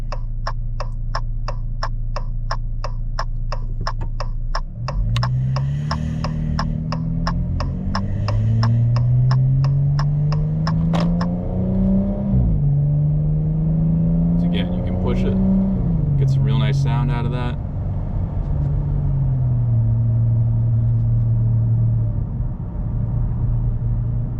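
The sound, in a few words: car accelerating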